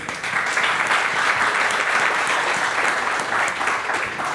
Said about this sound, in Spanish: Bienvenido, Arturo, también un aplauso para él.